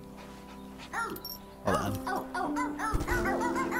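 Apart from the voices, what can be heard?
dog barking in video game Phogs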